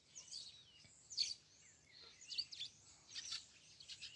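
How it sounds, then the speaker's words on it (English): Birds sing and chirp in a countryside landscape near a sheep barn, bright tweets rising and falling continuously at moderate distance with no talking. "All the birdies are singing."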